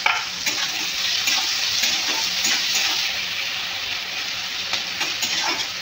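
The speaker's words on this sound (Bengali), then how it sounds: "এবার ওই তেলে আমি পেঁয়াজগুলো দিয়ে দেবো। পেঁয়াজগুলো 5 মিনিট ভেজে নেব।" Onions fry in hot oil in a home kitchen for a spicy country chicken curry, a steady dense sizzle that holds at an even level throughout, with occasional small pops and crackles.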